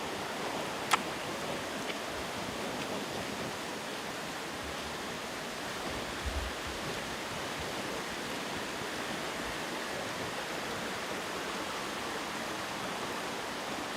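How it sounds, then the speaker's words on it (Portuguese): Steady, dense roar of a waterfall in the Atlantic Forest, a continuous broadband rush of falling water heard close and even throughout, with no voices. "Achamos a cascata."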